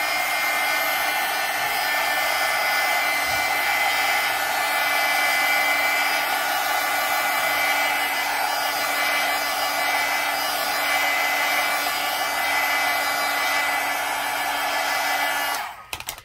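A heat tool drying paint splatters on a lemon-themed mixed-media junk journal blows with a steady, loud whirring hiss held constant throughout, cutting off abruptly at the very end.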